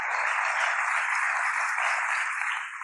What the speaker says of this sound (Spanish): Denle la gloria y el aplauso fuerte a Cristo Jesús